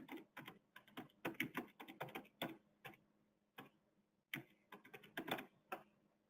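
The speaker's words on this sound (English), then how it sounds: "I can type in a comment." Keystrokes on a computer keyboard come in quick irregular bursts with short pauses while a comment is typed into business software, close and fairly quiet, no talking.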